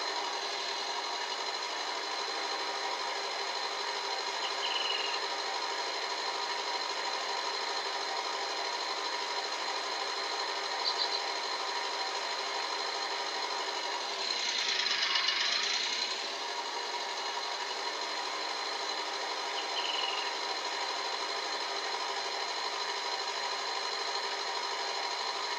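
Engine of a John Deere 6x4 Gator mod in Farming Simulator 19 droning at a steady pitch while driving slowly, even and continuous throughout with a brief swell midway, no talking.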